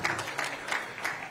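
Short, fairly faint round of audience applause at a government regional workshop in Lagos, with a few light bursts of clapping over about a second.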